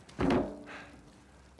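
Diving gear in Uncharted 4 lands with one solid, close thunk, followed by a softer scrape and a small knock just before the end.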